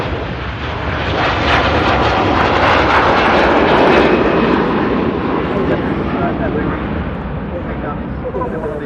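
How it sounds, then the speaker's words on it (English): An Airbus A330 airliner in Heineken livery departs Manchester Airport, its engines roaring loud and near as it takes off, the steady thunder swelling and then easing slightly. "Heineken 330 blasting out to Beijing"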